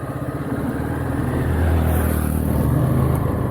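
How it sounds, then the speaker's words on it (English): Passing road vehicle heard as a loud, steady engine drone and rumble that swells slightly and holds close throughout, with no talk over it. "that's a vehicle."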